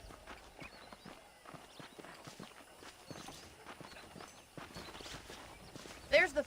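Horse hooves clip-clop at a walking pace in Red Dead Redemption, soft and steady under faint background game ambience, with a brief louder sound near the end.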